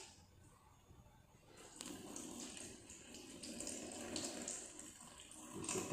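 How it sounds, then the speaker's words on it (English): Supernatant liquid is poured off a beaker of settled starch, a faint trickle that swells into a steadier close splashing pour with no talking. "now I am going to remove the supernatant here"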